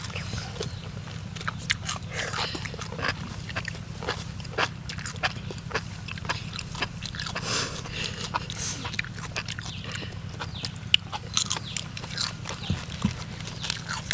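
Crunchy chewing of enoki mushrooms coated in a special sweet sauce, close and continuous, with repeated soft crisp bites over a low background rumble.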